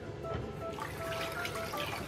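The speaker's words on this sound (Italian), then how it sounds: "vado a sciacquarmi con acqua fredda e arrivo" Cold tap water runs steadily into a sink while a face is rinsed after shaving, a continuous close splashing rush with no voices.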